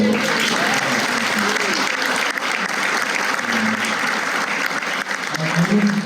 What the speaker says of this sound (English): Can we have a clap for...